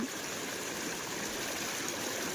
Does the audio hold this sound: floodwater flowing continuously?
yes